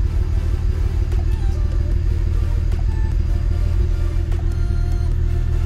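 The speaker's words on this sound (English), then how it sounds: "Still sounds like it has a misfire" BMW N54 twin-turbo engine idling with a misfire, a loud, close, continuous rough rumble with an uneven pulsing beat throughout.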